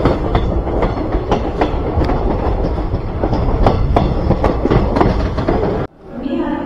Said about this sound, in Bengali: তো এখন ট্রেনে উঠে গেছি, আর একটু পর ট্রেন ছাড়িয়ে দিব।